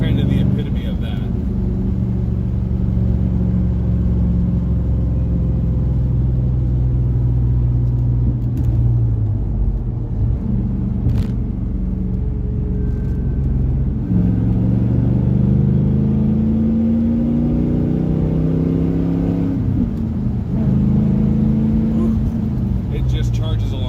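A 1999 Chevrolet Camaro with a manual gearbox drives and accelerates, its engine rumbling low and steady, pulling harder through rising revs, with someone talking over it throughout.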